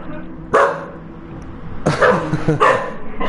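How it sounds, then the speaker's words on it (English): A dog barks in the background of a GT Sport racing broadcast, one sharp bark, then a burst of several more a second later, fairly loud against a constant low hum. "Once more we have the dog. We'll fix the issue shortly."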